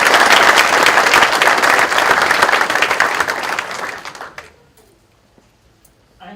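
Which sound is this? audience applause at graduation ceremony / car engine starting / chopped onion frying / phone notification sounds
audience applause at graduation ceremony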